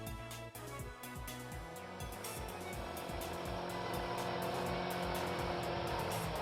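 Moped arriving, as a sound effect from the visual novel Steins;Gate: a buzzing motor engine with shifting, stuttering pitch that grows steadily louder and fuller as it approaches, with no voices.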